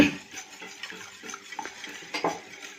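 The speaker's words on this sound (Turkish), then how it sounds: "3 adet yumurtamız. Bu çok değişik olacak arkadaşlar. Mutlaka deneyin. Şöyle hafif çırpalım. Çırpıştıralım hafifçe." Three eggs lightly whisked in a bowl for a baklava recipe, with a fork or whisk ticking and scraping in quick, steady strokes close by, moderately loud and without speech.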